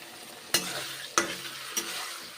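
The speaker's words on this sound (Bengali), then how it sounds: "নেড়ে চেড়ে কষে নিচ্ছি।" Pointed gourd (potol) sautés with salt and turmeric in a pan, a soft steady sizzle broken by three sharp scraping stirs at regular intervals.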